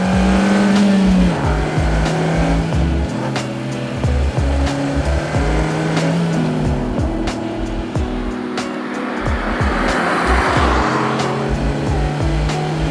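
2018 Suzuki Swift Sport with a small 4-cylinder turbo engine being driven, its note rising and falling through gear changes and throttle blips over steady road and tyre noise, heard from inside the car.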